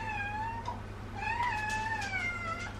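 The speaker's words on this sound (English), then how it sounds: "That, you can hear, is my cat." A pet cat meows in a home kitchen, several drawn-out, rising and falling meows close to the listener, with no talk over them.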